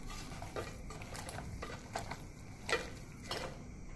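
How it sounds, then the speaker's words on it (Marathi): Chicken being stirred with turmeric, chili masala and salt for biryani, with soft rhythmic scrapes and light clinks of a spoon against the vessel about every half second, quiet and close. "आता सर्व मिक्स करून घ्यायचं आहे आपल्याला"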